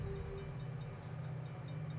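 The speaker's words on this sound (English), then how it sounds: "when they got up to the railroad crossing, there was a train moving across those tracks" A train rolls across the tracks at a railroad crossing near an airport, giving a steady low rumble with faint regular clacks, distant and continuous.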